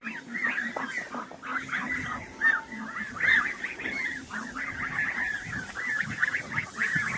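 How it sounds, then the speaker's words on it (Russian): A flock of geese honk and cackle in a farmyard, overlapping calls going on continuously at close range with no talking. "Гусики ходят"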